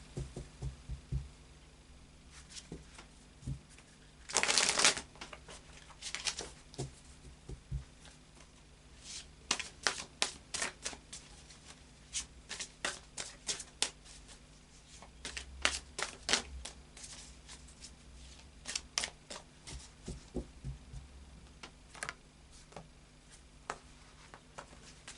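Tarot cards are handled close up, with one brief riffle shuffle near the start followed by many quiet slaps, flicks and taps as cards are drawn and laid out over a long, otherwise quiet stretch.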